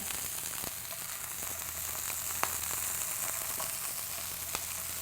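Scallops sear in a hot pan just after being flipped, giving a steady, close, loud sizzle with occasional faint pops and clicks throughout.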